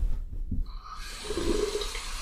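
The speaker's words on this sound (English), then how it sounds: "I'm going to wash my hands and rub them vigorously for 10 to 15 seconds under running warm water using soap" Warm water runs steadily from a tap during handwashing, a soft continuous splash that starts after a brief pause and carries on to the end.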